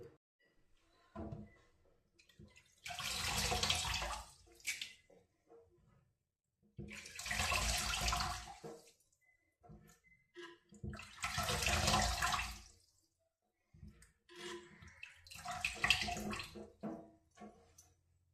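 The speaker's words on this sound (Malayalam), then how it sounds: "അപ്പം ഞാൻ ഈ കക്കാർച്ചിയൊക്കെ ഒന്ന് നന്നായിട്ട് കഴുകിയെടുക്കട്ടെ." Running water pours over clams being washed in four separate bursts, each lasting a couple of seconds, with brief quiet gaps between them and light clattering in the pauses.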